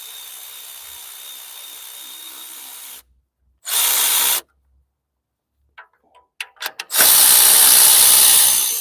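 Power tool driving 10 mm nuts off a Ford Focus EcoBoost engine shield: a loud, close burst of whirring, a pause with a few metallic clicks, then a longer sustained whir.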